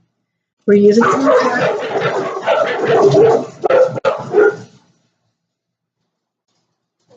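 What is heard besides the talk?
dogs barking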